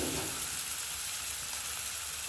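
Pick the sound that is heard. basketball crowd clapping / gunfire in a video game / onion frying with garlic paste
onion frying with garlic paste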